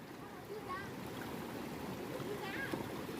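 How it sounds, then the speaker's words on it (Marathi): Strong river current rushing steadily at a riverside, a continuous broadband wash of flowing water with light splashes, filling the whole clip at moderate level. "बघ सानिका तिथे पाण्याचा प्रेशर बघ किती आहे"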